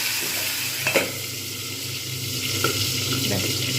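A katla fish head fries in hot oil with a steady, close crackling sizzle, punctuated by a few sharper pops and spits.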